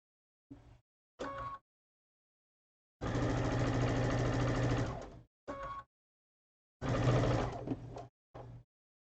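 A sewing machine stitching quilt rows together in separate runs: a few short bursts, one long steady run of about two seconds, then more brief bursts, close and fairly quiet, with silent pauses between.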